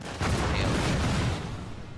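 Artillery cannons fire in the battle game Total War: Napoleon, a dense, rumbling barrage of booms blending into continuous loud battle noise, with no speech.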